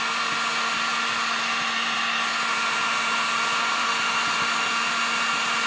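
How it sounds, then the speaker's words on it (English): Heat gun blowing hot air to shrink heat-shrink tubing on race car dash wiring, a steady loud whooshing fan roar with a constant motor whine, close and unbroken throughout. "So these here, you take a heat gun or a lighter. I like to use the heat gun. And you just heat them up, the ends, and they shrink."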